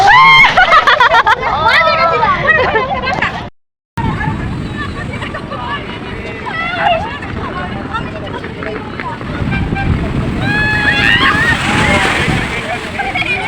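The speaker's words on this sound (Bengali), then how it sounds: "কি ঢেউ! এইটা জোরে আসছে, জোরে আসছে" Ocean water surging and sloshing against the shore at Digha beach beneath excited voices and crowd chatter, with shouting and a brief gap of silence.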